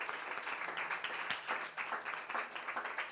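Church congregation giving a strong round of applause, many hands clapping in an uneven, rippling rhythm at a moderate distance, with no voices over it.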